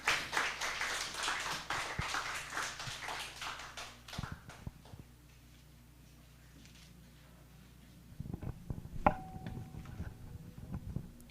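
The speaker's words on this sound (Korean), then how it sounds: "박수로 환영해 주시기 바랍니다" During a Sunday morning church service, an audience claps in welcome, a fairly quick run of distinct hand claps for about four seconds, then a quiet pause before scattered clapping and taps pick up again, faint overall.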